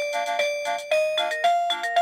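A bright Esonstyle wireless doorbell chime plays a repeating melodic pattern of tones, clear and close, with no voices.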